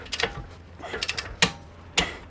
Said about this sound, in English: And tighten the lock nut at each end.